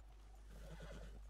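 A horse in the video game Red Dead Redemption 2 gives a brief whinny. It sounds faint and distant over a steady background hum.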